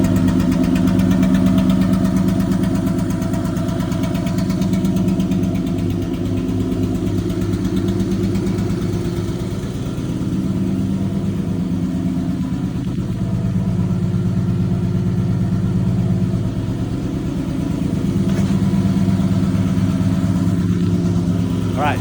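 J35 engine in a FuelTech sand car idling on a dyno, a loud, smooth, even rumble that holds steady throughout, with a voice talking over it.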